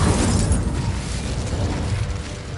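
A spell explosion in the video game Hogwarts Legacy, a dense, loud, sustained rumbling blast filling the whole moment with no gaps.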